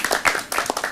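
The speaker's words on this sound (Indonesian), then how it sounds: "Kita tepuk tangan untuk Christopher, betul?" An audience claps for Christopher, a brief burst of dense, close hand clapping lasting under a second.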